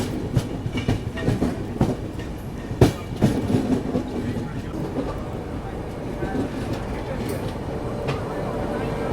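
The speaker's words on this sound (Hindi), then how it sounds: "अपनी गाड़ी बल्हारशाह रेलवे स्टेशन पहुँच रही है" The Chennai Duronto Express passenger train rolls into Balharshah station with a steady rumble and rhythmic clickety-clack, sharp metallic clunks standing out over the continuous rattle.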